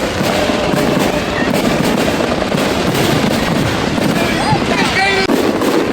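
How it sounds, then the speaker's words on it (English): Independence Day fireworks burst in dense, rapid succession, loud crackling pops and booms layered over a noisy crowd, with faint whistles rising near the end. "Okay guys, over here are the fireworks."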